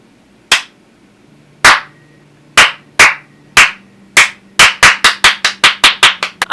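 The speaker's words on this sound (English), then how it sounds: "can we have a slow clap for this?" Hands clap alone in a slow clap: a few loud, sharp, evenly spaced claps about a second apart that speed up into a quick run of claps near the end.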